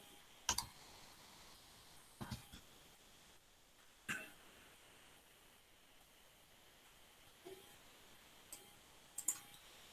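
A computer mouse clicks sparsely while an image is being selected on screen: about half a dozen soft, sharp clicks spread out irregularly, some in quick pairs, over a faint steady hiss with no talking.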